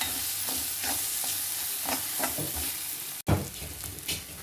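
Masala spice powders being sautéed and stirred in a pan while making pasta, a steady soft sizzle with scraping spoon strokes and a brief cut in the middle, no voices.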